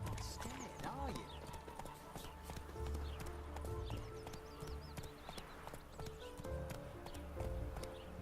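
Roach, the horse in The Witcher 3, gallops through a city with steady rhythmic hoofbeats close by, mixed with background game sounds and snatches of voices.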